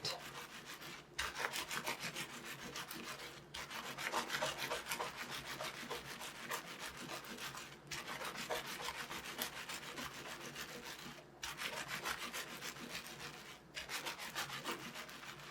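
Wool for a flower fairy house top is rubbed by hand during wet felting, a continuous close scrubbing and swishing that pauses briefly every few seconds before resuming, with no voices.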